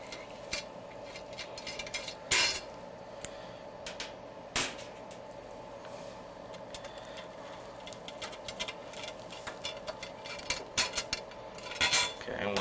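Light metallic clicks and scrapes of a flathead screwdriver backing two screws out of an electric pasta machine's side plate, faint and close, with sharper ticks over a low steady hum.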